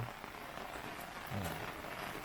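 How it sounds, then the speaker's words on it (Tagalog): Heavy rain pours in a dense, steady hiss of close, constant drumming that fills the whole stretch without any break, loud and with no voices on top. "malakas ang ulan niya"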